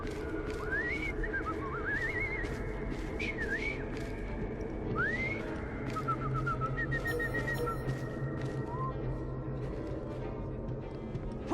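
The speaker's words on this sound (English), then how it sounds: "I've just learned to whistle." A character in Assassin's Creed Syndicate whistles a string of short rising and warbling notes, fairly clear over a steady ambient game background.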